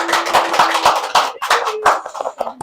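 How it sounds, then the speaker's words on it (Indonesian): Audience clapping hands at an Indonesian faith talk show, a dense run of sharp claps over about three seconds that thins out and ends with a few scattered final claps. "Tepuk tangan dulu."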